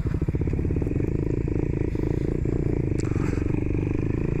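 A motorcycle engine runs loud and close in a dense, throbbing drone, heard while riding with no speech over it.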